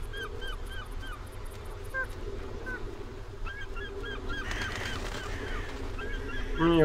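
Pigeons in The Witcher video game: cooing and fluttery calls repeat over a steady background hum, with a louder burst of rustling and a sharper noise near the end.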